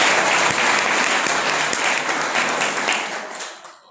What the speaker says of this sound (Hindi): उनके लिए भी एक घर जोरदार ताली बजाएं।